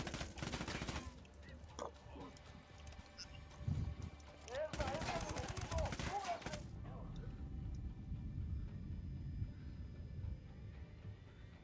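Bursts of automatic gunfire ring out in the Ghost Recon Wildlands video game: a rapid volley at the start, then a heavier sustained burst, with a voice talking over the shooting.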